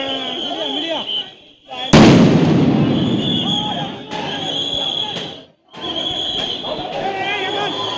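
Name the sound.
police sound grenade explosions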